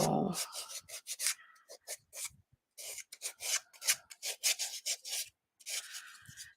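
Sandpaper scrubs over joint compound on a paper mache sculpture, close and fairly soft, in quick bursts of rough rasping strokes separated by short pauses.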